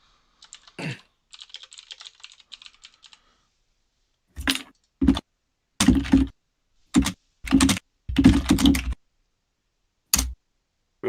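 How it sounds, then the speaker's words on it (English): Live typing on a computer keyboard, close and fairly quiet, with irregular bursts of clattering keystrokes separated by short pauses and a few isolated clicks. "We're listening to live typing."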